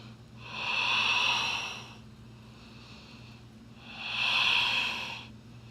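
Two slow, audible breaths during a rest in a yoga downward dog pose, each a soft airy exhale rising and fading over about two seconds, close with a low steady hum between.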